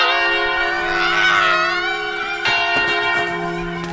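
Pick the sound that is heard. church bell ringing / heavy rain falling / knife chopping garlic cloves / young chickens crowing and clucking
church bell ringing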